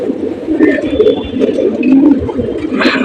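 A pigeon held in the hand gives low, throaty cooing in repeated soft bursts, close to the ear, with faint handling rustle.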